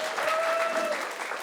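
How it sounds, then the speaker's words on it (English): A television studio audience on a panel discussion show gives a short burst of steady, dense applause, close and even. "Hey, round of applause"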